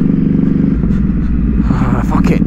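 A 2022 Ducati HyperMotard 950 SP rumbles and pulses on an off-road ride, its engine close and loud beneath a rider's voice talking over it.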